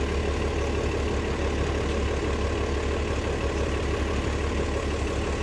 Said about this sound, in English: So I can't really hear it because there's a bus that's making a lot of noise.